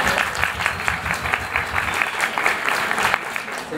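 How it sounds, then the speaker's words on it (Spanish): A small audience claps steadily at a natural history museum talk on biological collections, dense and continuous throughout with no one speaking. "Muy bien, un aplauso."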